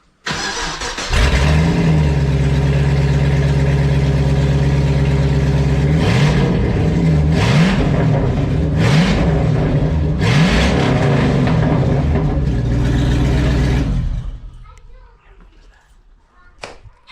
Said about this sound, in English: I'll give you the sound of my dad's race car.